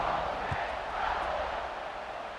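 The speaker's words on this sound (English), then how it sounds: "this crowd is buzzing after that last score" Stadium crowd in an EA Sports football video game makes a steady, fairly faint buzzing roar of many voices after a score, with no distinct individual sounds.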